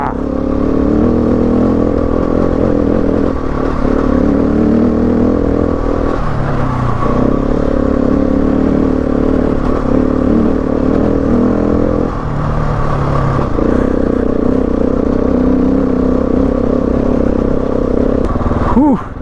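A Husqvarna 701 Enduro single-cylinder motorcycle climbs uphill on a mountain track toward Mt Terrible, its engine held at a loud, steady drone with brief dips at gear changes and wind noise over the microphone.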